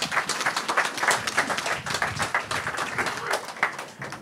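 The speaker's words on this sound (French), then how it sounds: "Est-ce qu'on peut l'applaudir bien fort?" A church congregation applauds Julie with a dense, steady burst of clapping that rises and holds throughout, with some voices mixed in under the claps.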